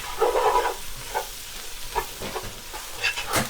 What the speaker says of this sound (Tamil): அதையும் போட்டு நல்லா வதக்கி போட்டு இதையும் போட்டு நல்லா கிளறணும்